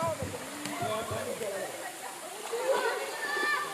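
Tusharagiri waterfall runs weakly with little water, a steady low hiss of falling water beneath people talking nearby.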